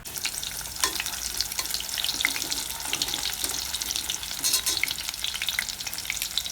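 Gorengan snacks frying in a shallow amount of oil, giving a steady close sizzle and crackle with small pops and occasional stirring, and no talk.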